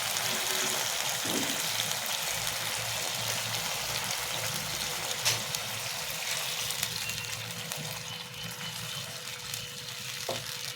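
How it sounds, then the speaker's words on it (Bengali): Water pours into a cooking pan of Bengali thankuni leaf shukto, a continuous close gushing and splashing stream that runs steadily for the whole stretch without speech. "এবার আমি জল দিয়ে দেবো"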